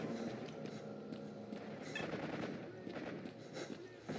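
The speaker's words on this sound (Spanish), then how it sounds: "Se escuchan varios balazos" Several gunshots crack at irregular intervals against a steady background rumble in the video game S.T.A.L.K.E.R., moderately loud, with no talking.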